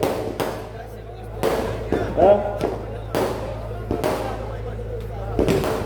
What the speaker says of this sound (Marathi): किती वेळ चालणार आहे ते फटाके